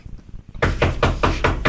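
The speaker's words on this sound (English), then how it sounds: "He's going to knock on the door." A fast series of about six loud, evenly spaced knocks on a door, close up, following a quiet moment with no talking.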